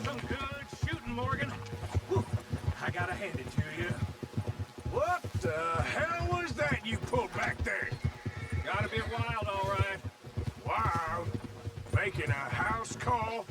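Horse hooves clip-clop steadily in Red Dead Redemption 2, a continuous rhythmic patter heard under almost constant speech.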